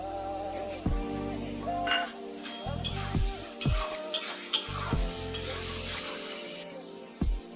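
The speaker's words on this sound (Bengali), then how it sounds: "মশলাটাকে ভালো করে কষিয়ে নেব" Spice masala for a potato, capsicum and paneer curry fries in a pan, with sizzling under repeated scraping stirs and clinks of a spoon against the pan, close and continuous.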